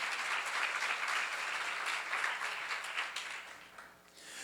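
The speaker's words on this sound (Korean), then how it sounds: "예수 안에 들어오면 평화가 깃드는 걸 믿는 사람만 박수로 하자" A church congregation breaks into sustained applause at a seminar, dense clapping from many hands that holds steady before tapering off at the end.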